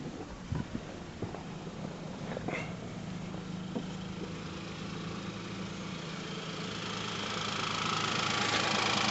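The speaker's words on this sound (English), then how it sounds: "This is what your 3-cylinder engine sounds like. This is at tick over." 2018 Hyundai Kona 1.0 T-GDi three-cylinder engine at tick over, heard close under the open bonnet: a steady low idling hum with slight knocking texture, a few clicks early on, swelling gradually toward the end.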